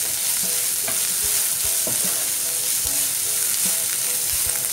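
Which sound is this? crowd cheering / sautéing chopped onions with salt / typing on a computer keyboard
sautéing chopped onions with salt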